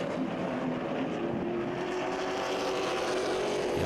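Late model stock cars race around a short oval track in a constant distant engine roar with a steady whine threaded through it, fairly faint and unbroken.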